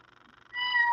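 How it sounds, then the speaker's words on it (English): A phone's message notification plays a recorded cat meow, a short rising-falling meow that follows a faint warbling lead-in, close and clear, with no voices. "It's my messages sound."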